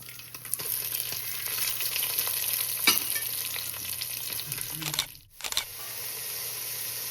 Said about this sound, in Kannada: ಇದಕ್ಕೆ ಇನ್ನು ನೀರುಳ್ಳಿ ಹಾಕ್ತಾ ಇದ್ದೀನಿ.